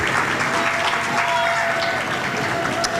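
An audience at a school senior awards night claps in a dense, steady round of applause, with crowd noise and a voice heard faintly over it.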